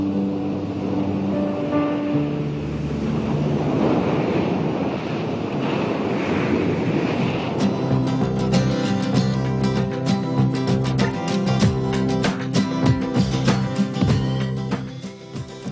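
Sea surf washing onto the shore, a broad steady roar of breaking waves with wind noise, first merging with low tonal music and then continuing under denser layered sound in the second half.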